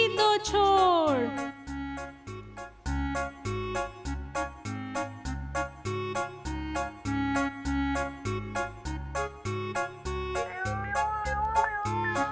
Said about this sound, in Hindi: बिल्ली बोली म्याऊं म्याऊं, मुझको हुआ जुकाम